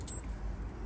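Car keys jangle briefly and faintly next to a car in a parking area, a soft metallic rattle over low background rumble.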